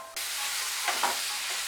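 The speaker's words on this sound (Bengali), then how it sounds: "রাখা আলু পটলগুলো দিয়ে দেব। মশলার সঙ্গে আলু পটলগুলো মিশিয়ে নেব।" Potatoes and pointed gourd are mixed with spices in a hot pan for a Bengali potol chingri: a loud sizzle bursts in abruptly and holds steady, with a couple of brief stirring scrapes, close and without talk.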